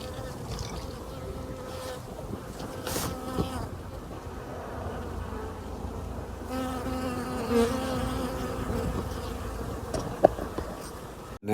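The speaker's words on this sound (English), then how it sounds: "They're making a right noise. It's like absolutely alive with them" Bees buzzing around flowering ivy, a dense, continuous hum of many insects at close range, with a few faint knocks and no talk.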